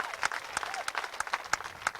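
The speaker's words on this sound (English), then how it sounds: "Would you please give him a nice big round of applause?" A race-track crowd claps steadily during a pre-race ceremony, a moderately faint, even patter of many hands with a few louder individual claps standing out, and a voice faintly underneath.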